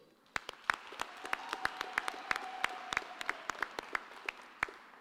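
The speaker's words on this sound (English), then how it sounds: "I'd like for us to also give a massive round of applause to the parents and guardians" Audience applause at a graduation ceremony in Qwaqwa, a steady wash of clapping from many hands with sharp individual claps popping out, sustained and moderately loud for several seconds with no talk.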